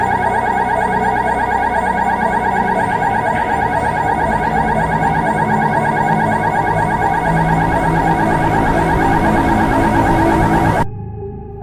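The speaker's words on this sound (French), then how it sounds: "d'un coup, les alarmes sonnent" Alarms blare continuously and loudly through an abandoned Backrooms outpost, a harsh repeating electronic wail that cuts off abruptly near the end, leaving a lower hum.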